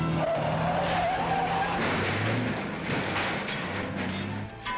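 A 1953 Warner Bros. cartoon car driven roughly by a careless valet skids and screeches continuously at high volume, a dense rushing wash of tire squeal and engine noise with a faint whistling tone at the start.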